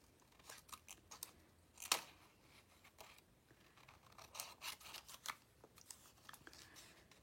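Scissors cutting through vellum in a paper craft: a series of quiet, crisp snips and rustles, irregular and close, with one sharper cut standing out, no talking.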